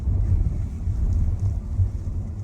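A Renault Scenic 1.2 TCE rolls straight along a street, heard from inside as a steady, loud low rumble of road and engine noise with no other distinct sounds.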